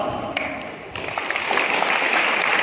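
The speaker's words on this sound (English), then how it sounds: "please welcome our guests with a huge round of applause" Audience applause welcoming guests at an Independence Day school function at Holy Cross School, Hazaribag, a steady wash of many hands clapping that builds slightly, with a voice partly heard over it.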